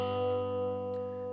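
Two guitar notes, a G and a B, sustain together as a steady ringing tone while the other strings are barred but only lightly touched and muted.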